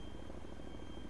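A helicopter in the DayZ Epoch game drones with a steady rotor thump and engine hum at moderate volume, continuous and unbroken, with no speech.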